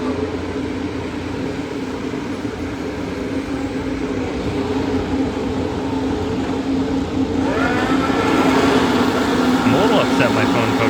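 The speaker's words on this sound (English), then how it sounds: "The sound of all these engines revving as the lights go up." Formula One race cars rev their engines together on the grid at the US Grand Prix, a sustained distant roar with a rising whine toward the end, and people talk over it.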